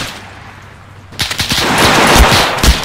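Machine gun fire in the WWII video game Arma 3 Iron Front 1944 erupts after a second of quiet, loud rapid bursts of shots stacking into a dense, close rattle with deep thumps.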